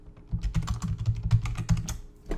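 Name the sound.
typing on a computer keyboard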